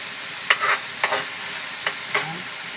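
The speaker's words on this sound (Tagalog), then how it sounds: "Ilulutuin natin yung tomato paste." Tomato paste frying in a pan for pork ribs caldereta, a steady sizzle with a few scraping stirs of the spoon at intervals, close and fairly loud with no talking.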